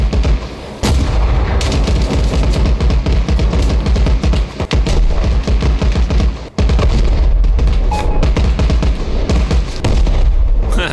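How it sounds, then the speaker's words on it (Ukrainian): Mortar fire in the video game Arma Reforger: a dense, loud barrage of booming blasts and rumbling explosions rolling on continuously, with a few sharper reports standing out, and no talk over it. "Міномет кудись стріляє."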